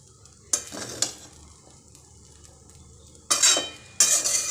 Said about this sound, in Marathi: आता सर्व करायला घेऊया एक दोन मिनटंच असं परतायचं